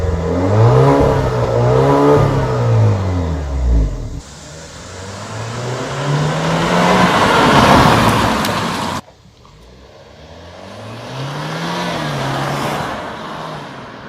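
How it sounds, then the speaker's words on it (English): A 2017 Alfa Romeo Giulia Q4 Titanium Edition drives on the road, its engine note rising and falling through gear changes with loud interior road noise and no talking. "So we are here behind the wheel of the 2017 Alfa Romeo Giulia Q4 Titanium Edition"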